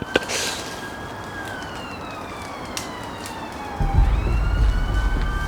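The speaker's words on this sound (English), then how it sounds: "So we just heard like a bunch of sirens nearby." Several sirens wail at a distance, their tones gliding slowly downward over a steady background rumble that grows louder toward the end.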